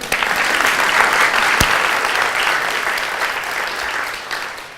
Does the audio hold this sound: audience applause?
yes